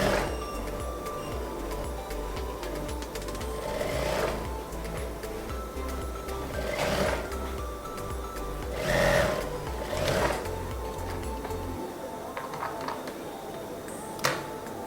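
A sewing machine stitches corset pieces together with a half-inch seam allowance, running in several short bursts at moderate distance against a low background hum, with no talking.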